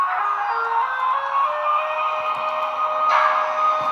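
A model ESU Taurus locomotive plays its wheel flange lubrication effect, a steady high hissing squeal held for several seconds at a constant level, with no talking.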